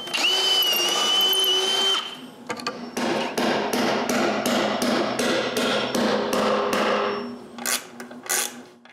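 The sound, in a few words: fastening bolts on a snowmobile sled hitch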